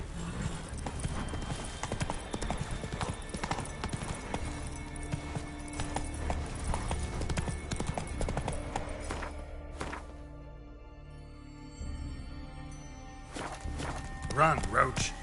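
Hooves of Roach the horse galloping in The Witcher 3, a rapid, continuous clip-clop with music and talk over it, easing briefly before picking up again near the end.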